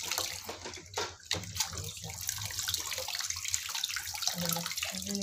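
Penoy duck eggs are scrubbed in running water, with continuous splashing and gurgling from the tap close by and a few knocks and rattles mixed in.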